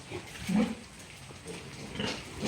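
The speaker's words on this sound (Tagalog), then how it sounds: "Tignan natin yung mga baboy" Pigs and piglets on a farm grunt and squeal in a low, continuous jumble at moderate distance, with faint background noise and no clear talking.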